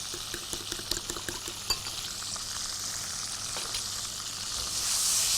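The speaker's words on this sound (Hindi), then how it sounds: "प्रॉन्स हमारे पास फ्राई हो गए हैं" Prawns fry in a pan with garlic, salt and pepper, giving a steady bright sizzle with a few stirring clatters early on, the hiss swelling slightly louder toward the end.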